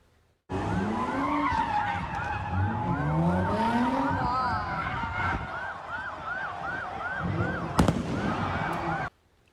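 Sirens wail in repeated rising sweeps during street chaos at a busy Philadelphia intersection, with crackling fireworks bursts, screeching tires from cars doing donuts and a loud bang near the end, all dense and continuous.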